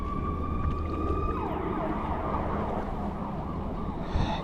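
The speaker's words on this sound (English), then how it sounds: "Excuse the sirens" A wailing emergency vehicle siren sounds steadily from a distance behind a constant roar of wind and water, beside a Florida canal lined with homes where snook fishing is under way, with no talking.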